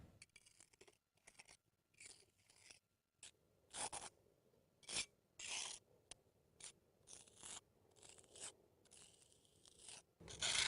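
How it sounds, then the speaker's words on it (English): A margin trowel scrapes patching compound into a small crack in concrete, with intermittent faint scraping strokes separated by short quiet gaps. "we're going to put it right in here with the margin trowel"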